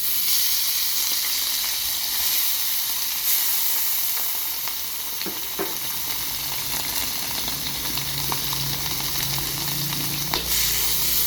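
Beef sizzles steadily in a hot pan while cooking daging goreng air asam, with a constant frying hiss and occasional faint clinks and scrapes of stirring.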